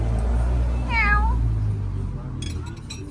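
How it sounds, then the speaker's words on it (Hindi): A cat gives a single clear, rising-then-falling meow, close by, over a loud low background rumble at a seaside spot in Istanbul, Turkey. "ये मेरी बिल्ली होती हुई है चोनी"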